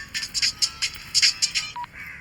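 A phone gives a bright, chirping electronic ring in quick repeated bursts, close and clear, ending with a short single tone and no voices over it.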